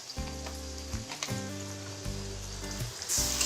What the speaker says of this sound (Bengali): এখন এই আদা রসুনের পেস্টটাকে ভালো করে নেড়ে ভেজে নিচ্ছি